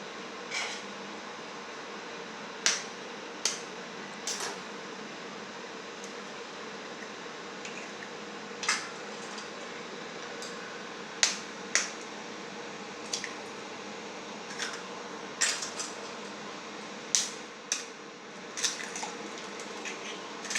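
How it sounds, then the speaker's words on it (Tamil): Eggs are cracked into a vessel for a Tamil egg fry, with faint, scattered taps, cracks and small wet squishes spread over a quiet room hum, and no talking. "எடுத்துக்கிட்டு இதில் முட்டையை உடச்சி ஊற்றணும்."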